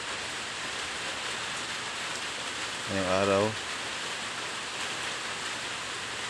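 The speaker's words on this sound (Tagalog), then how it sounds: "Naulan na guys." Steady rain falls in a continuous broadband hiss, with a brief voice speaking over it midway.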